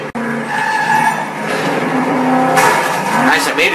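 A car drifting in the video game Driver: San Francisco, with a loud sustained tire squeal and engine roar that shifts pitch as the skid goes on, close and continuous.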